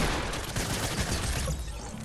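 Sustained gunfire from a shooter video game, a dense, continuous barrage at a steady loud level throughout.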